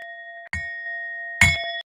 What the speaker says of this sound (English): You can do a little gong thing